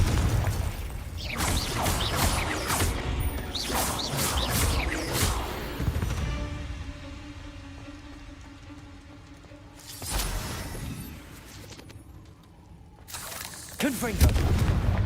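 Confringo spell blasts from the Hogwarts Legacy video game. Booming explosions and crashing game effects come in clusters early on and again near the end, with a voice speaking over parts of it.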